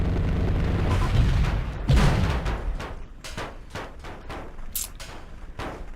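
Repeated heavy cannon blasts from a Comanche helicopter in the Comanche Gold game, one big boom then a rapid run of sharp, loud shots with short rumbling tails.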